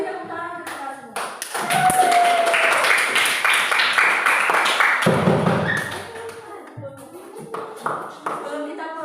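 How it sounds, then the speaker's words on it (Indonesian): A group claps hands together, a burst of dense clapping rising after opening speech and lasting several seconds before fading back to talking voices with scattered taps. "Beri tepuk tangan untuk kita semua."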